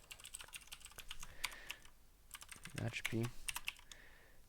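Clicky typing on a computer keyboard while coding, with rapid irregular keystrokes heard close and fairly quiet, under a person speaking softly at times.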